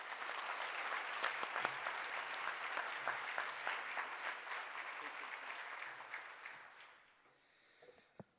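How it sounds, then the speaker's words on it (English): Audience applauding at a small business organization's website launch event, a sustained burst of dense clapping that fills the room, then fades out over the last seconds. "Let's give a great applause, ladies and gentlemen, SCORE CEO Ken Yancey."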